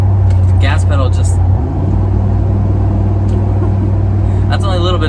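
A 2003 Chevy SSR retractable-hardtop two-seat truck pulling away on a light touch of throttle, its low engine drone close and steady, briefly dipping before resuming, with someone talking over it.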